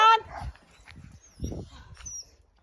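A dog outdoors gives short whimpers and a yip in brief bursts, with a person talking in between.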